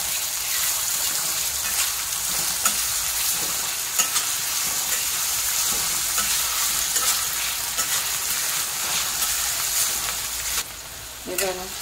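Tomatoes and onions sautéing in hot oil in a pan for paneer masala, a steady loud sizzle with occasional stirring scrapes throughout.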